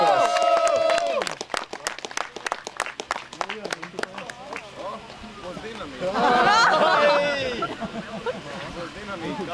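Rhythmic clapping from a crowd at an award ceremony for a folk race event, a rapid burst of applause at the start, then an announcer speaks over chatter before a second swell of applause.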